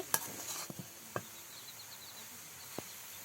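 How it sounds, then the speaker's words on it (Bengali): Cabbage stir-fries in a pan with a soft steady sizzle and scattered utensil scrapes and clicks, moderately close but quiet, with no voices. "পাতাকপিটাকে আমু ভালো করে ভাজি করে নিচ্ছে নেড়ে চেড়ে"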